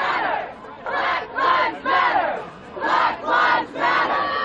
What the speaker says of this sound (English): The crowd is now screaming Black Lives Matter